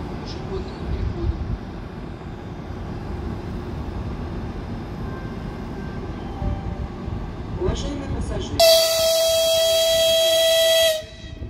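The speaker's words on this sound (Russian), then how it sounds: "Вот он гудок-то сделал" Passenger train at a station, Chita to Moscow service, with a murmur of voices and platform noise before a loud, sustained horn blast near the end that cuts off abruptly.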